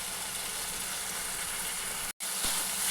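Onions and tomatoes sizzle in a pan with a continuous, even frying hiss, briefly cut off by a short gap near the end before resuming.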